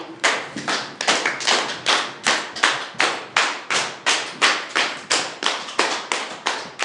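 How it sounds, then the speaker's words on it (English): Rapid, steady hand claps repeat evenly for several seconds, loud and close, with no voices. "Clap as fast as you can."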